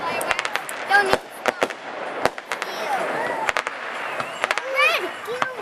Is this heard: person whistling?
no